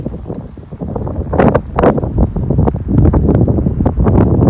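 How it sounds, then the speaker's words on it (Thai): Dry wind blows hard into an outdoor microphone, making loud, rumbling buffeting that comes in uneven gusts and sharp bursts for the whole stretch, with no voices. "ลมแห้งบ่พี่น้อง"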